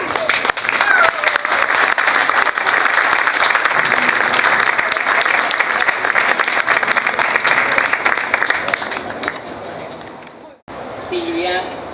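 Loud, sustained audience applause at a book presentation, welcoming the author's representative, holding steady for about nine seconds before fading and cutting off, followed by a brief spoken voice.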